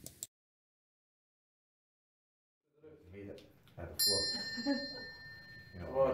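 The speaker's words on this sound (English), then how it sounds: "Old school tricks is using a bell." A small bell rings out with a bright, sustained metallic tone, sounding clearly alongside people talking during a paranormal investigation in Dundee.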